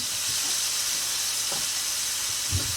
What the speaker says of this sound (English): as I stir this squash up, it coats it with that marinade that we have